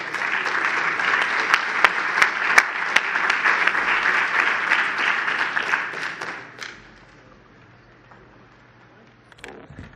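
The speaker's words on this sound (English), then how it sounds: "Please, a warm round of applause," A large audience applauds warmly for a panel of speakers joining the stage at a mobility conference, a dense sustained clapping that fades out after about six seconds into near quiet.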